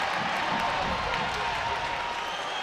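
Ice hockey crowd at a Sheffield Steelers versus Guildford Flames arena game applauding and cheering, a steady broad wash of clapping and crowd noise filling the whole moment without letup.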